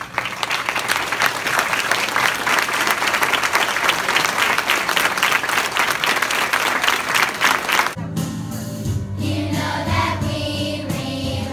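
Loud, sustained applause from a crowd at a school Veterans Day program honoring service members, dense clapping for about eight seconds before it gives way to a musical passage.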